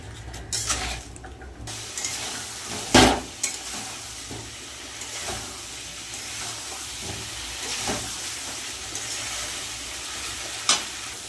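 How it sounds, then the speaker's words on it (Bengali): Spice paste fries in a pan, stirred now and then with salt added, giving a steady, close sizzle broken by scraping strokes and a few louder clatters, with no voices. "ভালো করে মশলাটা কষিয়ে নেব।"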